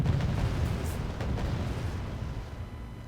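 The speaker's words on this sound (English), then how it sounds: "With the bombs coming in on this town, I think." Bombs exploding on a town in the strategy game Wargame Red Dragon, a heavy rumbling roar of blasts with dense low-end thunder that slowly fades across the clip.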